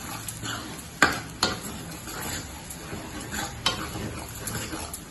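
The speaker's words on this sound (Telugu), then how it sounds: "ఇప్పుడు దీన్ని ఇలా మనం కలుపుకుందాం." Mushroom curry masala seasoned with pepper powder is stirred in a pot. A spoon scrapes and clinks against the metal in a few sharp knocks over a soft, steady simmering hiss, with no voice.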